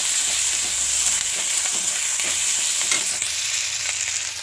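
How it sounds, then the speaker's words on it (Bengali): Spices frying in a hot pan for a soybean and potato curry, a steady loud sizzle with crackling bursts and occasional stirring scrapes, close up with no talk. "তো এখানে মশলা ভাজতে কষতে দিয়েছি।"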